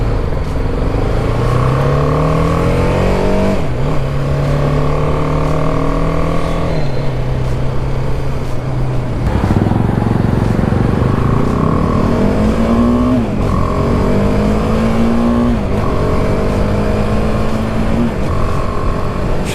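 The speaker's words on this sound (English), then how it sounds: "Do have to rev her out a bit, but once you rev it out, she sounds pretty good." BMW G310R small single-cylinder motorcycle revved repeatedly while standing, engine pitch climbing and falling in several loud, close sweeps over a constant rough idle.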